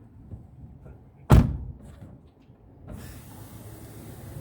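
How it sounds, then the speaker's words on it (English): A door slams shut with a single loud, sharp thud in a room with faint background murmur, followed by a brief low rumble and quiet room noise. "We're just going to shut the door."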